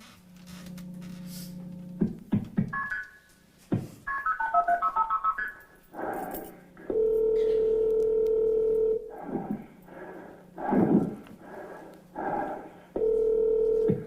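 Telephone dialing tones and steady ring tones from a recorded 911 call, several long buzzing rings alternating with bursts of keypad beeps and short fragments of muffled line noise, fairly loud and with no talk over them.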